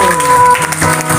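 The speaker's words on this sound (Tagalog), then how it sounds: "Palakpak, babe." Wedding guests at a church ceremony give a short, loud burst of applause that blends with a held tone and room murmur underneath.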